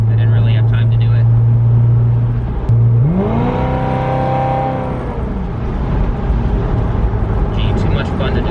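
A supercharged Corvette's engine idles with a steady low hum, then the throttle is blipped and the revs climb and fall in a rising whine, loud and close, as if heard from inside the car on a rainy night.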